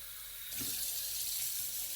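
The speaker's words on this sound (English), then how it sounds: "So you're going to add in 32 ounces of water." Tap water gushes steadily into a pot for homemade chicken stock, a sudden start followed by a loud, even rushing fill close by.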